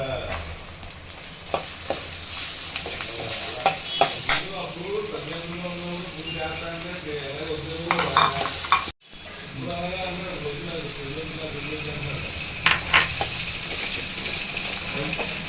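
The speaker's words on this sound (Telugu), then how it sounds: "వంకాయలు వేయించి పక్కన పెట్టుకొని అందులోనే ఉల్లిపాయలు వేసేయాలి" Onions hit hot oil in a pan just used for frying eggplant, giving a loud, steady sizzle and hiss with occasional stirring knocks. A voice talks over it, and there is a brief dropout midway.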